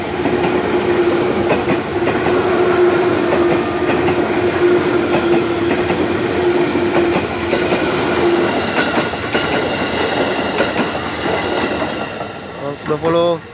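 A KRL commuter train, a JR SF set in new livery, rolls into Cibinong station. Its steady rumble and clickety-clack of the wheels are loud and near, with a faint squeal near the end, and voices are audible in the background.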